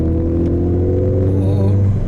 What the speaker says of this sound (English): from the outside the exhaust is quite subtle, but from the inside, whoa, that's a proper sound